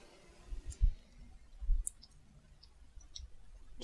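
A few faint, sparse mouse clicks sound in a quiet room while working in Adobe Photoshop, soft isolated taps spaced about a second apart.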